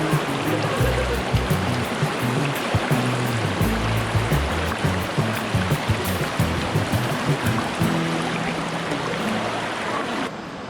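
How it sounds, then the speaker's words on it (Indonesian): River water at Malino Hills Resort flows and rushes in a steady, close, full-bodied wash of burbling and splashing. It continues without a break and with no voices. "Suara airnya betul-betul sangat memanjakan, sehingga selalu ingin berlama-lama di sungai ini."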